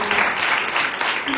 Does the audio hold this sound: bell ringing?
no